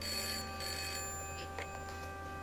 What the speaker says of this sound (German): Kling, kling, das Telefon.